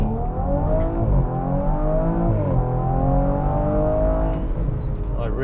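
An Audi RS4 driven hard, its engine climbing through the revs with rising and falling tones as gears change, loud and close from inside the car.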